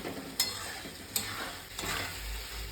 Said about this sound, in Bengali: আস্তে আস্তে আলুটা ভালো করে বেশ ভালো করে কষাতে হবে